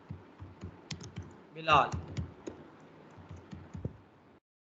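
Clicking keystrokes on a computer keyboard as a name is typed into a PHP student-data web form, in short uneven bursts under a man's ongoing speech.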